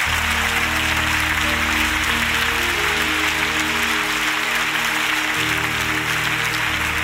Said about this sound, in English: clap your hands and give Him praise